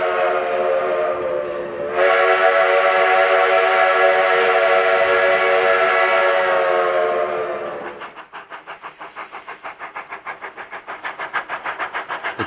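Sierra Railway steam locomotive Number 28 departs Jamestown, sounding a long, loud steam whistle that swells and holds for several seconds, then gives way to rhythmic exhaust chuffs.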